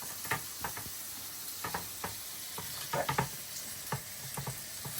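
Broccoli frying in a pan with sweet potato and leek, a steady sizzle with scattered clicks and taps of stirring, close and moderately loud with no talk.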